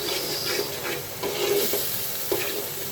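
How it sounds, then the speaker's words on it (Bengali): Spice paste of turmeric, coriander, ginger-cumin and garlic with salt sizzles in a pan while being stirred for a pomfret fish curry, soft scraping strokes recurring over a constant gentle frying hiss, close and moderately loud. "সমস্ত মশলাটা আমি সুন্দর করে কষিয়ে নিই"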